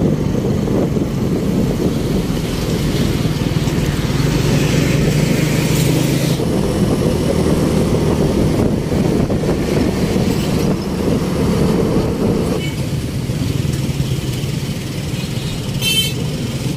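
Steady road rumble and engine drone from a car on a long drive from home toward Rawalpindi on a cold night, continuous and fairly loud with faint rattles, no talking.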